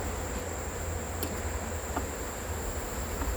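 Honey bees swarm at an open hive, a dense, continuous buzzing hum that stays close and steady throughout with no talking.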